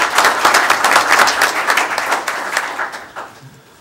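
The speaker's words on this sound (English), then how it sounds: "One more round of applause." Crowd at a Hillsborough township reorganization meeting applauding: a dense wash of many hands clapping, loud and close, fading out over a few seconds.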